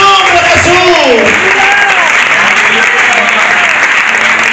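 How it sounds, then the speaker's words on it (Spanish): A church congregation claps in loud, sustained applause that fills the room, with voices calling out and talking over the dense clapping throughout. "Aplaude a Jesús en esta tarde."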